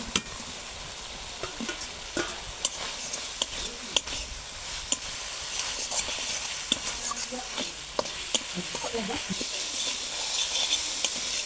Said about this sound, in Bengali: আলুটা দিয়ে কিছুক্ষণ কষিয়ে নিয়েছি